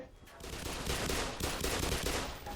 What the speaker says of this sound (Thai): โอยพวกนี้ยิงแรงนะเนี่ย